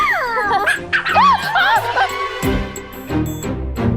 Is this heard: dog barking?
yes